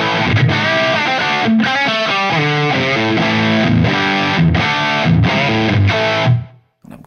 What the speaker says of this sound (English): we go from this sort of smooth, articulate, at the same time, broad spectrum overdrive pushing into distortion thing